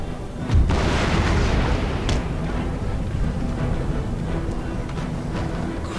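Musket volleys in the video game Empire: Total War, a Danish army firing on troops scaling walls: a loud crackling boom opening the clip, then a dense continuous rumble of distant battle gunfire.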